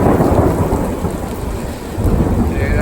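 Thunder rolls through a heavy thunderstorm, a loud broad rumble over steady pouring rain, close by and with no talking.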